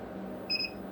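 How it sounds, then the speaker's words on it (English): Two short, high electronic beeps sound in quick succession over a low steady hum, clear and close. "two beeps, let go"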